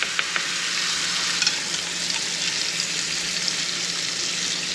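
A porterhouse steak searing in a pan of brown butter with rosemary and garlic gives off a dense, steady hiss of sizzling fat, close and constant, with a few faint crackles.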